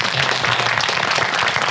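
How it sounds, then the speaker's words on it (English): Steady applause from a crowd fills the whole moment, dense and even, with no voices standing out. "How about a round of applause for our final four panelists?"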